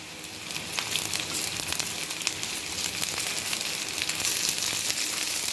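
Green chillies and reddened onions sizzle steadily in hot oil in a pan, a continuous close, moderately loud frying hiss with faint crackles throughout and no talk.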